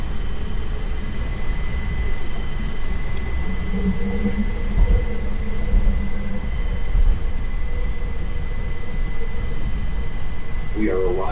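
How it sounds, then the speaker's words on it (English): An airport terminal train at JFK runs along with a steady rumbling drone and a faint whine that rises as it slows near the end, while an automated voice announcement plays over it. "This train is for airline terminals only."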